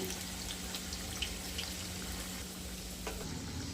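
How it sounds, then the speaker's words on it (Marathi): Vegetable bhakarwadi rolls deep-frying in oil over medium heat, a continuous soft bubbling sizzle close by with faint crackles and no talking. "मीडियम गॅसवर क्रिस्पी होईपर्यंत मस्त तळून घ्यायचं"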